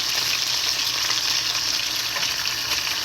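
Fish frying in a pan for attiéké poisson, a steady close sizzle with a bright hiss throughout and no talk.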